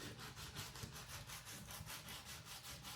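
Sandpaper rubs back and forth on a guitar bridge saddle, quick rhythmic scratchy strokes at an even pace, close and alone.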